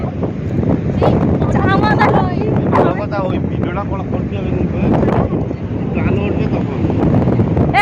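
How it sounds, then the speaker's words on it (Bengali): Gusty wind at Digha beach rumbles heavily against the microphone while several people talk and call out nearby throughout. "এত হাওয়া হচ্ছে"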